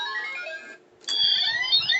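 Electronic keypad tones sound as a passcode is entered, a steady run of bright synthetic beeps that breaks off briefly near the middle and then resumes, fairly loud and close, with no talking.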